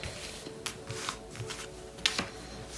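Tarot cards being handled and drawn by hand, giving soft shuffling and sliding rustles with a few sharper flicks as cards are snapped down, quiet and close in a calm room.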